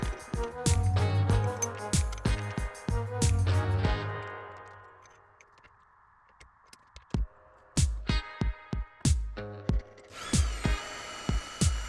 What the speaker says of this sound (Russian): Сверлю отверстие во всех 3 деталях и нарезаю резьбу М4.